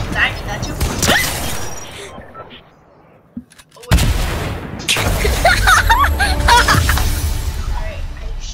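Gunfire in the Fortnite video game, loud repeated shots and booming blasts in two bursts separated by a brief near-silent gap, with a player's voice and laughter mixed in.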